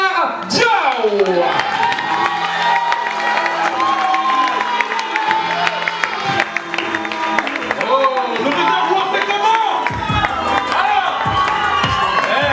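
A live audience gives a stand-up comedian a loud, sustained round of applause and cheering that runs the whole stretch, with shouts and voices mixed into the dense crowd noise.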